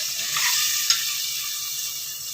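Ginger garlic paste and ground tomato fry in a pan for mushroom biryani, a bright steady sizzle with a faint scrape midway, close and alone.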